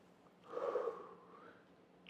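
A person imitates breathing as a clue in a word-guessing game, a single soft breathy exhale swelling and fading over about a second in a quiet room.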